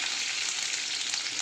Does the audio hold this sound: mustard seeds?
yes